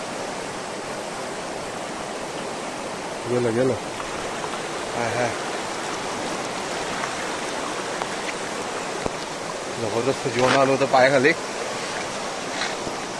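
A main river in the Konkan hills rushes past close by in a constant, full-bodied hiss, with people talking excitedly over the water in two short bursts.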